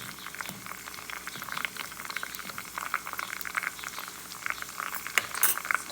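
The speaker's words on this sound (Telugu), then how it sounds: "కొంచెం పచ్చి ఆకులు కదా, చిట్పట చిట్పట అంటున్నాయి." Fresh rosemary leaves bubbling and crackling as they boil in hot oil for homemade hair oil, a steady dense spitting and popping throughout with a few sharper clinks near the end, close and moderately loud.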